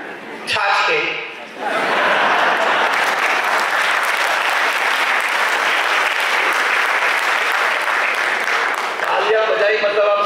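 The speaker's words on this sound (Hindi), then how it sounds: "तालियां बजाई मतलब आप समझ तो गए" A large audience at a spiritual lecture bursts into sustained, dense applause after a brief voice at the start, loud and close, carrying on for several seconds before a voice returns at the end.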